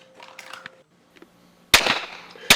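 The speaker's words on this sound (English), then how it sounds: "Here we have a firing sequence of using an open-sighted pistol in an outdoor environment." Open-sighted pistol fired outdoors: two sharp, loud reports about three-quarters of a second apart, following a quieter stretch of faint handling noises.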